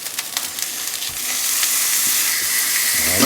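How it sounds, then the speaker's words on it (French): Burger steaks frying in a pan, a close, loud sizzle that swells and settles into a constant hiss of hot fat with faint stirring scrapes. "La cuisson des steaks, c'est suivant votre goût."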